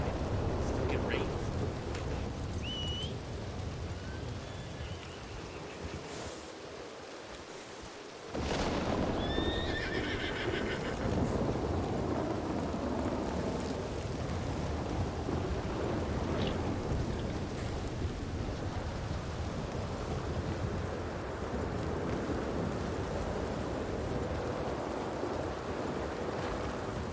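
Steady rain pours down outdoors with a constant hiss, joined by distant rumbles of thunder. A horse whinnies and hooves clop nearby, and voices speak now and then over the downpour.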